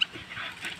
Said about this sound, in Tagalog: Yan ang aking alagang aso. Nagbubunot ng niyog.